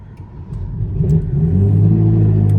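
A Ferrari 458 Italia engine cranks and catches, then settles into a loud, steady idle rumble close by.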